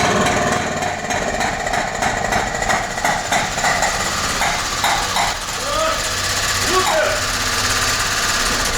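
A car engine knocks and backfires into the carburetor, giving a steady rough clatter with sharp irregular pops throughout, close and fairly loud, with faint voices in the background.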